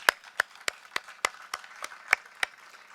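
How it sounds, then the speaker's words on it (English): Scattered hand claps from a small audience at a library groundbreaking ceremony, about ten sharp separate claps spread evenly over a few seconds, fairly faint and thin rather than a full ovation. "So let's give John a round of applause."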